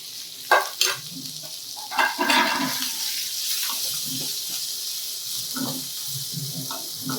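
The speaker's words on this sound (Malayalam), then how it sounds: "ഉള്ളിയും പച്ചമുളകും കൂടെ ഇട്ട് ഇളക്കുക." Onions and green chillies fry with cumin seeds in a pan for dal makhani, giving a soft continuous sizzle broken by the clatter and scrape of a spoon stirring.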